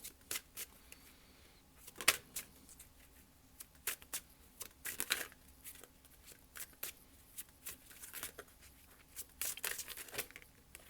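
Tarot cards shuffled and drawn during a reading, giving soft repeated riffling and snapping bursts in irregular clusters, fairly close and alone without talk.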